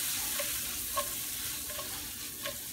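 Chanterelle mushrooms and green onion sizzling steadily in a pan, with a few soft clinks and rattles as the pan is tossed, close and moderate, no talking.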